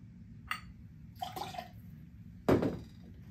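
Cold brew coffee splashes into a cocktail shaker in short bursts, ending with a louder close pour and clatter against a quiet room hum.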